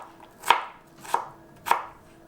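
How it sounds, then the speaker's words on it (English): Knife dicing a peeled, washed potato on a board, three crisp separate chops spaced roughly half a second apart, close and clean in a quiet kitchen with no talking. "So I've peeled and washed my potato, and now I'm just going to dice it into very small pieces."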